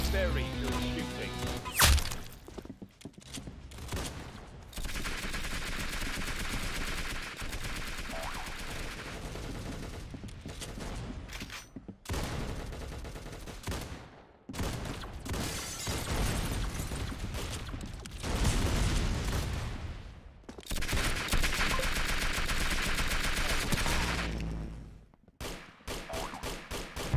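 Rapid bursts of gunfire in the Roblox game Arsenal, loud automatic volleys and single shots broken by brief gaps, with crashes and mechanical clicks mixed in.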